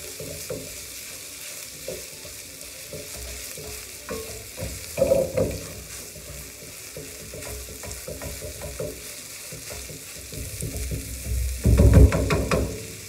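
Meat frying over high heat in a pan, a steady sizzle throughout with irregular scraping and stirring knocks, and a louder clatter near the end.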